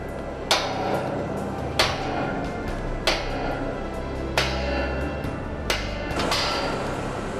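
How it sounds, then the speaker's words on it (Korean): Sharp metallic hammer blows ring out on a tower crane at slow, irregular intervals, about six strikes, over a steady low rumble of machinery and wind, high above a construction site. "쾅쾅 두드려대는 망치 소리가 타워 크레인 상승 작업의 본격적인 시작을 알린다"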